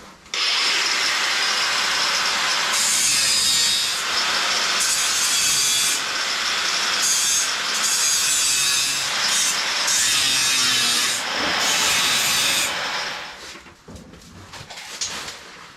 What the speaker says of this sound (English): So I'm going to have to resort to cutting and grinding.